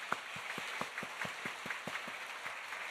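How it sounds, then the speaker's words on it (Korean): A church congregation claps in praise during a sermon, a faint, steady patter of hands with a few distinct louder claps standing out, no talking. "하나님께 영광의 박수 올려드리겠습니다"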